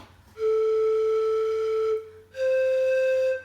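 Two sustained whistling tones from a Thai vot, a circular bamboo panpipe, blown softly: a long steady note, a brief pause, then a slightly higher held note, clear and close with no talking.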